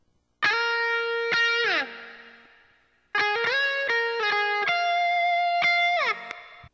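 An electric guitar plays a smooth, sustained solo line drenched in hall reverb, two long phrases of bent and gliding notes ringing out with a spacious tail that fades between them.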